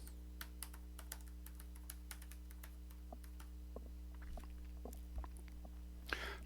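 Quiet keystrokes on a computer keyboard tap out in an irregular run of light clicks against a steady low hum, with no talking.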